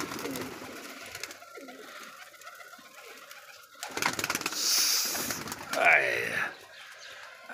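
Pigeons in a net enclosure at a pigeon loft make soft cooing and rustling sounds, with bursts of wing flapping building toward the end. A voice talks quietly underneath.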